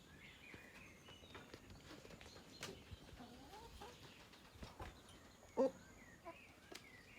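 Chickens at a rural Black Sea farmhouse coop give soft, scattered clucks at a moderate distance, with one brief louder squawk partway through, set against a steady low background of outdoor noise.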